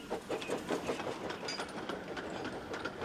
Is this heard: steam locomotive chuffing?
yes